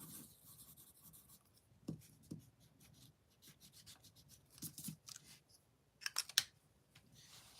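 Pencil scratching and rubbing on paper as it writes and then gets erased, soft close scraping strokes with a few brisker bursts near the end, faint overall with no talk.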